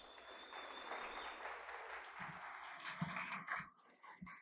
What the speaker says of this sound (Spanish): Un aplauso para su compañera.